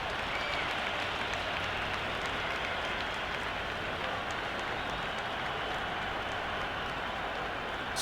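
A big crowd at the MCG for a Boxing Day Ashes cricket Test keeps up a steady wash of applause and crowd noise, dense and continuous, without speech.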